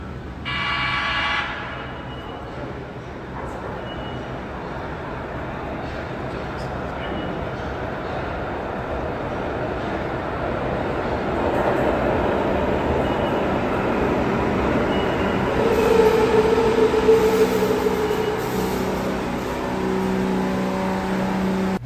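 A train rumbles past steadily, its rolling roar swelling gradually, with some voices mixed into the noise.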